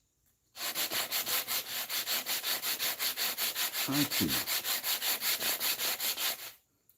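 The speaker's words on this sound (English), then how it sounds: "I apologize if this excessive sanding is bugging y'all." Wood being sanded by hand in long, even back-and-forth strokes, about three per second, close and loud throughout, with a brief voice speaking over the middle of it.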